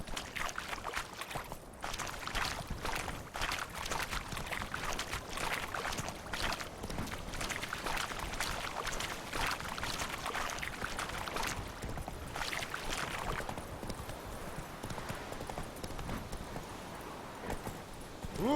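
Geralt's horse gallops in The Witcher 3: Wild Hunt, its hooves pounding out a fast, steady clip-clop rhythm that runs nonstop, close and clear, with a soft splashy texture in places.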